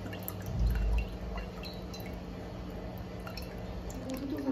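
Coconut water poured at home during a Bengali Nil Sasthi observance: a short, heavier splash of liquid near the start, then faint drips and soft handling sounds over low room noise.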